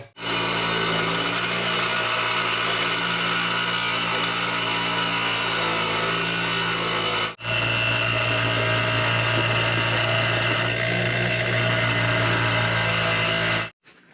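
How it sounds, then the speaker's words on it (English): A grinder grinds down a metal hinge to thin it for a homemade skid steer door. Its loud, steady whine runs continuously, stops briefly about halfway, then resumes at the same level until it cuts off. "All right, let's go to the grinder."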